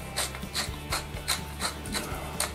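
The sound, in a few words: grinding pepper with a pepper mill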